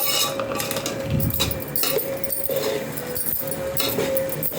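A utensil stir-fries coarsely ground peanuts in a pan for a puffed-rice snack, sending quick metallic scrapes and clinks over a steady, dense background of cooking noise. The sound is close and continuous.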